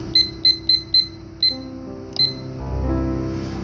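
Kitchen timer set while a Duncan Hines lemon cake cooks in a Ninja Foodi, giving a series of short, sharp high beeps, four quick ones then two spaced ones, followed by a low hum of the running cooker.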